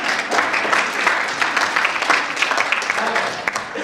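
An audience at a real estate team meeting gives a volunteer a round of applause, a moderate, steady patter of many hands clapping with slight swells, heard from across the room.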